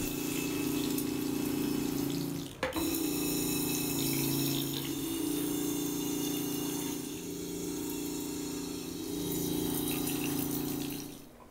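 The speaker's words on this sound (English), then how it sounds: "Let's see what rinsing other types of glasses is like." Steady water spray from an InstaRinse glass rinser blasting into a glass, a continuous rushing hiss with a brief interruption early on, close and fairly loud, no talking.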